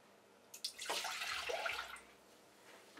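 Whole milk poured for a custard cream, a short liquid splash and stream rising suddenly and running about a second and a half before tapering off, close and moderately loud with no talking.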